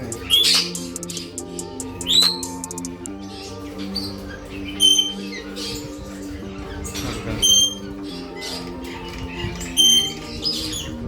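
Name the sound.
birds chirping in a bird shop in Kuwait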